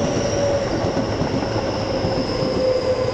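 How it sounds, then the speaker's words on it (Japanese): A Keio Line train runs past near Sengawa Station in Tokyo, a steady loud rumble of railcars and wheels on track with a faint high squeal, filling the whole clip with no talk. "あ、京線走ってますね、これね。"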